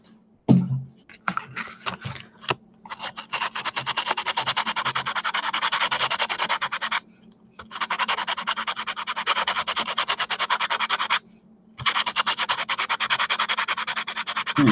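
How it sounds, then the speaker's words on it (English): A wooden jewelry box is sanded by hand in rapid back-and-forth rasping strokes, close and fairly loud, after a few scattered scrapes, with two brief pauses breaking the continuous scratching. "It's a little bit awkward for me to sand in this position."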